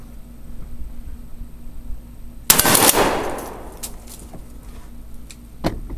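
A 12 gauge slug fired at a Flash 500 armor plate outdoors: one loud, sharp blast with a long rolling echo that fades over a second or two, followed later by a smaller metallic knock.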